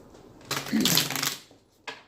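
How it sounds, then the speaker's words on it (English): Steampunk Tarot cards are riffled in one brisk shuffle, a close, papery flutter lasting under a second, followed by a short snap as the deck settles. "first I want to pull some cards"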